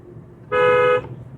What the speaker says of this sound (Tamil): one more horn